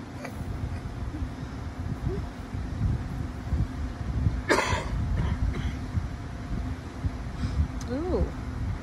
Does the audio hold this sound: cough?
yes